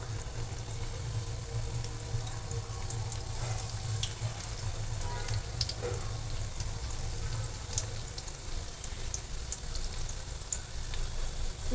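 Onion bhaji batter fries in hot oil with a continuous bubbling sizzle. It is close and even in level and runs through the whole stretch, with a low steady hum under it.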